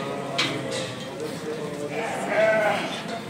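Sheep and lambs bleat at a Kadirli livestock market, with a few close calls rising over the steady murmur of a crowded pen and voices talking nearby.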